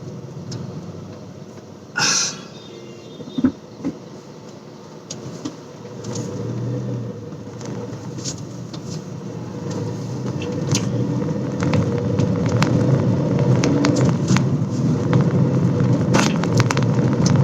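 A Volkswagen Polo engine runs and revs, its roar swelling steadily louder toward the end, with no voices.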